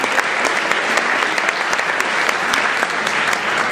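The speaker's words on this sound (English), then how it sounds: "So another round of applause for those of you." Loud, dense applause from an audience at a school band concert, a bright continuous rattle of many hands clapping at once, steady and close throughout.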